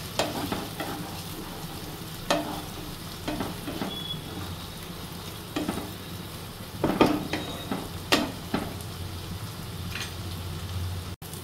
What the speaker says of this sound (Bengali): আদা রসুন বাটাটা আমি ভালোভাবে পেঁয়াজটার সাথে মিশিয়ে নেব